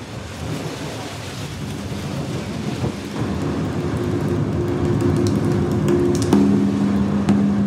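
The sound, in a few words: heavy rain with thunder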